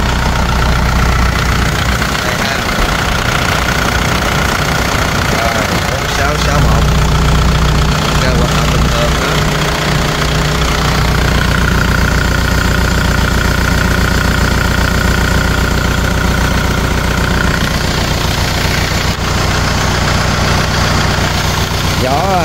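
A Kubota L5018 tractor engine idles loudly and steadily nearby with a low, chugging knock, while someone talks over it.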